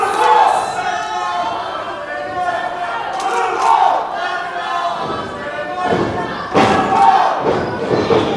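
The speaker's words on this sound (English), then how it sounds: "Well, certainly mixed crowd here." A mixed crowd at an NBW independent wrestling show in Sedalia, Missouri roars and chants steadily throughout, with thuds and swells near the end, while commentators talk over the din.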